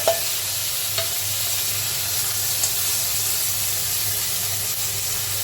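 Ginger, garlic, onion and tomato paste fries in oil in a wok with a steady close sizzle and hiss, broken by a few faint stirring clinks.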